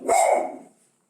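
A dog gives a single close, sharp bark that fades quickly into silence.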